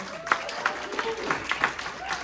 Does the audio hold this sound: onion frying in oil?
no